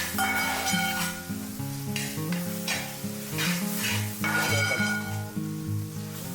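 Rabbit meat roasts in a pan with masala, giving a loud, continuous sizzle, with repeated stirring swishes rising over it in waves.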